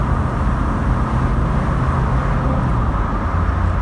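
Four-cylinder engine of a 1986 Vauxhall Cavalier 1.8 GLSi saloon pulling under acceleration on an evening road drive, a loud steady droning roar from inside the car with constant road rumble and no talking.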